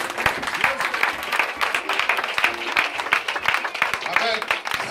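Church congregation applauding Jesus during a teaching, steady dense hand clapping from many people, loud and close with voices cheering among it.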